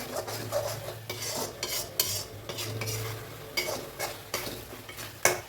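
A spoon stirs masala sautéing in a pan for okra kara kuzhambu, giving repeated scraping and clinking strokes over a low sizzle, close and steady with no talking.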